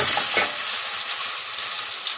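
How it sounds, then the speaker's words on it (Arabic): A garlic clove fries in a spoonful of ghee, sizzling loudly and steadily up close, with a brief clatter of stirring at the start and no talk. "عليها معلقة سمنة، انزل بفص الثوم كده"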